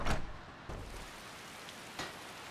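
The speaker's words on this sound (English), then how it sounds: "Oh, it is raining now." Rain falls steadily in the video game Skyrim, a soft even patter with a few brief louder thumps.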